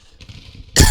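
A person forces out one deliberate fake cough, a loud, abrupt burst close to the mic after a stretch of quiet background hum.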